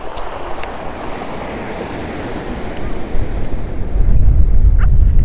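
Wind gusts buffet the microphone with a rushing, roaring noise that grows heavier and more rumbling toward the end, over distant surf.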